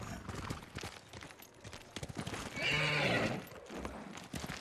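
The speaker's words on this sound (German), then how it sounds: "das Pferdchen kommt da hoch" A horse in Ghost of Tsushima lets out a loud whinny midway amid steady clip-clop hoofbeats, close and clear with no speech over it.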